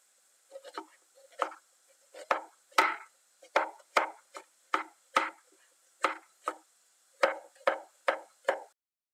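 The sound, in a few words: knife chopping onions into half-moon slices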